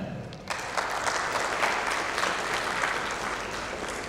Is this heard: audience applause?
yes